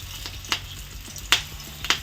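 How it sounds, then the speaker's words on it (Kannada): Mushroom kebab pieces dropped one by one into hot oil, giving a soft steady sizzle with a few sharper crackles and spits rising above it. "ಎಣ್ಣೆ ಸ್ವಲ್ಪ ಬಿಸಿ ಆದಮೇಲೆ ಮಶ್ರೂಮ್ನ ಹಾಕೋದು"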